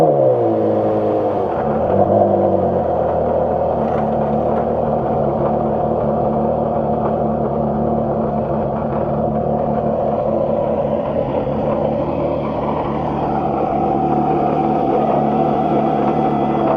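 Porsche Carrera GT V10 engine idling and revving at a Cars and Coffee meet, a loud, close, steady rumbling drone with rising tone early on, running continuously without talk.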